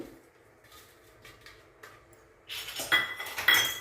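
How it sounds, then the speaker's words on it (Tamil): Cashews being roasted in an iron kadai: soft scraping and metallic clinks of a spatula against the pan, quiet at first, then louder, busier stirring and clatter toward the end. "முந்திரி பருப்பை நல்லா வறுத்து எடுத்துக்கோங்க"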